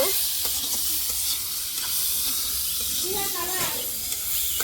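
Koi fish and mango frying together in a pan, a loud steady sizzle and hiss with occasional stirring, close up, as someone talks over it.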